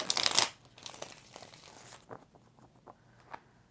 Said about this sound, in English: 2 more shuffles for Sunflower about this Pisces